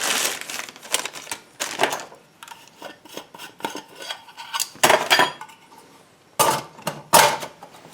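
A metal alcohol burner being set into a folding wood stove pot stand, with close, loud metallic clinks, rattles and knocks coming in irregular bursts and short pauses.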